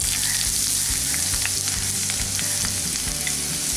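Chopped onion fries in hot mustard oil in a wok, a loud, dense sizzle running steadily throughout with occasional light stirring scrapes, close up and with no talking.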